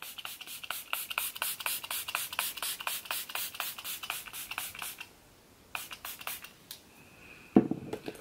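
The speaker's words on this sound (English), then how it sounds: "I'm just gonna really spray my face down" Makeup setting spray hisses in quick, close spritzes onto a face in a steady rapid rhythm, then pauses, followed by a few scattered sprays and soft handling noises.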